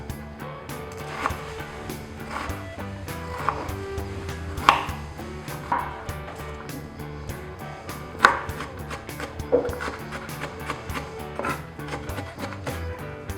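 A knife chops an onion on a cutting board, producing about a dozen crisp, close thuds at a steady, unhurried pace, roughly one per second, with no talking.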